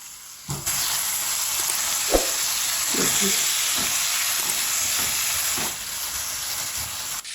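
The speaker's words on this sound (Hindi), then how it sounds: "अब इसको तकरीबन 2 मिनट मीडियम आंच पे पकाएंगे, भूनेंगे मसाले के अंदर।" Turnips sizzle in spices in a pan over medium heat, a steady close hiss that starts abruptly and carries a few utensil taps and scrapes before easing slightly near the end.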